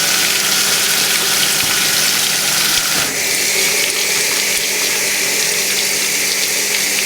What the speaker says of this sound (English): So yeah, I filled that up with water.